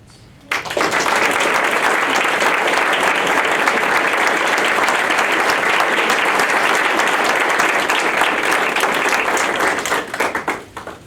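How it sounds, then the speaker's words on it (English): Applause for award recipients at a Board of Education meeting, bursting in abruptly and holding as a loud, dense, sustained clapping from a large audience for about ten seconds before tapering off into a few last claps. "a big round of applause for everyone"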